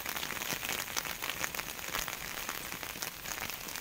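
Steady rain follows a hailstorm, a dense, continuous patter of drops hitting surfaces close by, unbroken and fairly quiet, with no talk.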